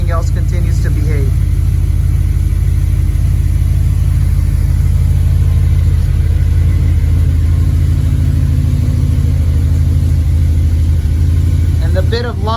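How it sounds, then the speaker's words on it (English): Audi B7 RS4 engine idling roughly, a loud, close, uneven low rumble that holds steady with a slightly raised high-idle stage throughout. "the bit of lumpy idle you're hearing"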